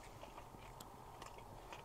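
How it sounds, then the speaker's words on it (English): Close-miked chewing of Wendy's fast food with burnt edges, soft repeated bites and mouth sounds over a steady background hiss, with no talking. "They could really hear us chewing on these microphones."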